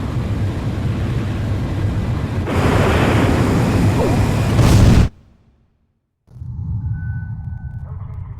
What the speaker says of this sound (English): The SSTO is climbing smoothly.